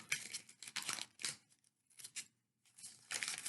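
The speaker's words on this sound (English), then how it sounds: "Okay, so I cut the center out." Scissors snip and tear through a paper cupcake liner in short crisp bursts with pauses, close and fairly quiet, no talking.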